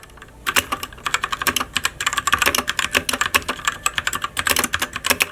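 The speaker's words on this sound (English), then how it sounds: "These brown switches feel great, but they're definitely a little bit louder than most other brown switches" Fast typing on a Drevo Calibur V2 mechanical keyboard with brown switches, a steady stream of crisp, clacky keystrokes up close, varying in pace with brief pauses.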